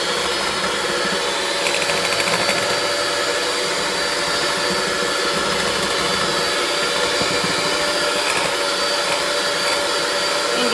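An electric mixer whirs loudly and steadily while blending creamy buttery cookie banana pudding, a continuous close motor drone.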